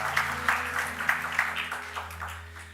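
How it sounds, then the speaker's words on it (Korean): A church congregation claps during a Wednesday worship service. The applause is faint and scattered, with a steady low hum running underneath. "주님께 영광의 박수 올려드리겠습니다."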